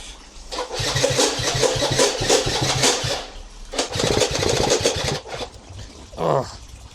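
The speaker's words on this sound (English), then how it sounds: "that starter motor definitely wants looking at. I'm not sure why it keeps like catching and then disengaging." An old scooter's electric starter motor cranks loudly in repeated bursts, and the engine briefly catches before cutting out again, with short gaps between attempts.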